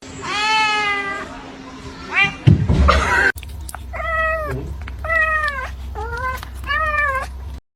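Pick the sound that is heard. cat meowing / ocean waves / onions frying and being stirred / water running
cat meowing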